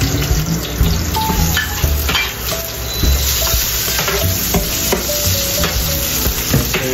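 Garlic sautéing in a pan for a budget chicken adobo sizzles loudly and close up. A spatula scrapes and clatters against the pan again and again as the garlic is stirred.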